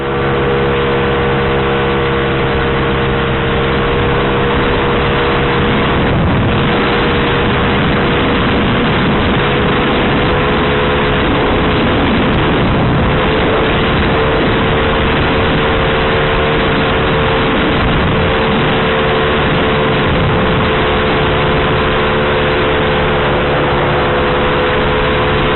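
A Honda Vario 130cc carburetor scooter held at full throttle on a gently undulating road, a loud, constant engine drone with wind rush, close and unbroken, no talking.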